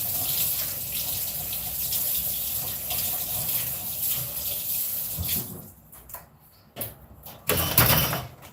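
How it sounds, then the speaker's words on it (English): Running tap water splashes steadily into a kitchen sink while a dish is rinsed, a continuous near hiss that drops off and then returns in short bursts of flow toward the end. "I'm just going to rinse this off"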